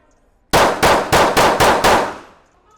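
Six loud, close shots ring out in quick, even succession from a Smith & Wesson M&P Shield micro-compact pistol, each blast sharp and echoing before the last one fades out.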